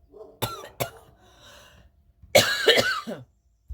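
Several sharp coughs close by, two quick ones followed by a harsher, longer coughing fit with throat clearing.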